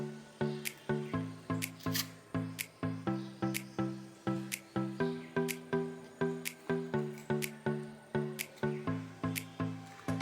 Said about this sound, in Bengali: এবারে শিমটাকে আস্তে করে খান থেকে চিড়ে নেব চিড়ে নিয়ে এবার এর ভেতরে বীজটাকে বার করে নেবো